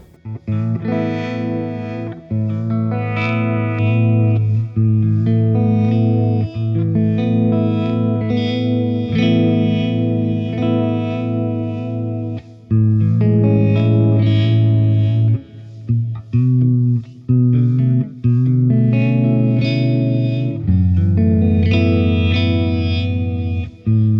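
A sustained electric guitar passage swirls with a sweeping phaser effect from a Kraut Rock Phaser pedal, its notes trailing into delay echoes and a wash of reverb, loud and continuous.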